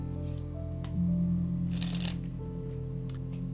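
Playing cards are handled in a quiet room during a swing cut sleight, with soft riffles, light snaps and a brief rustling flurry of card movement over a faint steady hum.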